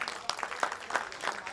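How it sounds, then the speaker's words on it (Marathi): Applause at a cricket tournament prize ceremony: a crowd claps in scattered, uneven bursts that rise and fall over a steady background murmur, moderately loud and fairly near. "एकदा जोरदार टाळ्या"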